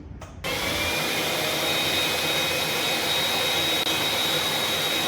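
A Hyla vacuum cleaner fitted with a brush attachment dusts bedroom walls, starting after a brief pause with a steady, loud whirring roar and a thin high whine that holds evenly to the end, with no talking.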